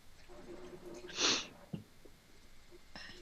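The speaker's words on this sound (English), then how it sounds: "You guys got the sniffles." A single sharp, breathy sniff rises briefly above a quiet background murmur, with a faint click shortly after.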